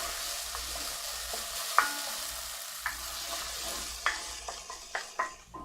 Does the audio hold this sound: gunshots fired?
no